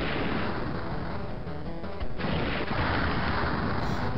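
Heavy cannon fire from a giant robot's attack in the Super Robot Wars J video game: a loud, continuous barrage of booming blasts with a sharp fresh burst midway and no speech.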